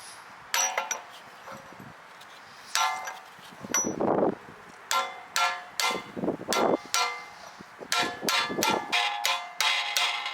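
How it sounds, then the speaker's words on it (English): Sharp metallic hammer strikes on a socket drive a rear wheel bearing into a Jaguar XJ6 wheel hub, ringing out in a steady series of taps, some bursts quicker than others, with a few ringing clinks between them. "I use a socket that fit on the bearing and hammer it into the hub."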